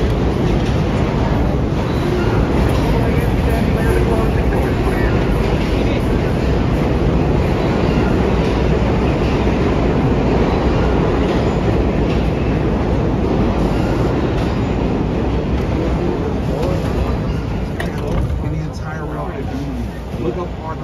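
An R32 subway train rumbles loudly and continuously as it rides, a heavy roaring clatter with constant vibration throughout.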